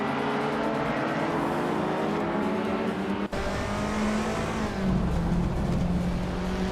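Race car engines in a video game race, a steady high-pitched drone of several cars running close together, with one faint pass partway through and no voices.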